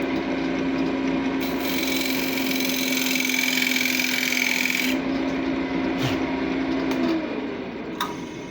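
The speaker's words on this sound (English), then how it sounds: "we're ready to cut the chamfer" A chisel cutting a chamfer in wood on a lathe, with a steady rasping scrape over a constant motor hum for several seconds, then the cut stops and a few faint taps follow.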